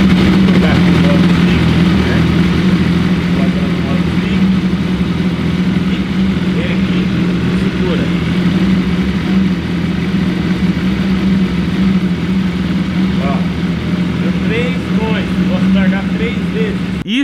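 A BMW S1000 motorcycle idles in neutral after its engine has cooled, holding a steady, close, even drone for the whole stretch, with a bit of talk over it near the end.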